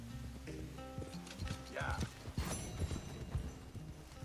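Horse hooves clip-clop in Red Dead Redemption 2, a quick uneven series of close hoof strikes with a brief whinny, under a short spoken word.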